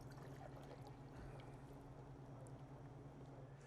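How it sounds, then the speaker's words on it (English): Beer poured into a glass in a brewery rec room, a steady splashing pour running continuously at close range over a low background hum. "you and I are going to pour beers differently"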